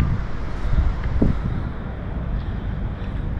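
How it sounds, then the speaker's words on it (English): Wind gusts sweep across Nobby Beach near Newcastle, a steady broadband rush with low rumbling buffeting on the microphone and slight swells, close and fairly loud throughout, with no talking. "it's a little bit windy, so I hope you can hear me"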